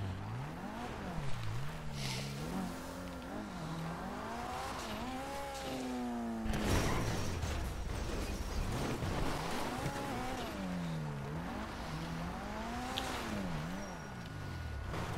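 A car in GTA V Online revs and drives with the engine rising and falling repeatedly, with tire noise and a loud rough burst midway, fairly close.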